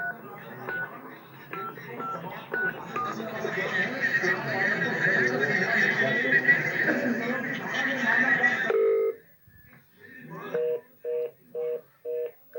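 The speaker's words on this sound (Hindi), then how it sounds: "ये हमने स्पीकर पर फोन लिया और हमने फिर से डायल किया।" A phone on speakerphone is redialed to a number that keeps disconnecting. Voices and background clamour come first, then a short gap, followed by a run of evenly spaced electronic tone bursts that sound loud and close.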